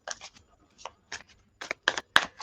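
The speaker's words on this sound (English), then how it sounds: "let's give these a good shuffle" Tarot cards being shuffled by hand, a series of short crisp riffling bursts separated by brief pauses, close and fairly quiet.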